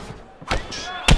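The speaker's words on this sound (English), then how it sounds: "Massive head kick." A heavy head kick lands in EA Sports UFC 4, a sharp slam-like thud followed by a second, louder close impact, with game noise between.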